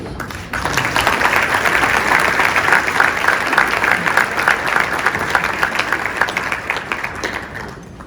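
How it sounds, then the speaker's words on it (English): Audience at the Senior Executives Association 2019 Presidential Rank Awards applauding speaker Francis Rose, a burst of dense clapping that starts abruptly after a brief pause, stays loud and steady, then thins toward the end. "You just applaud for a little longer there."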